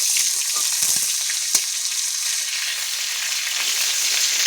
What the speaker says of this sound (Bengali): পেঁয়াজটা লাল লাল করে ভাজা করে নেব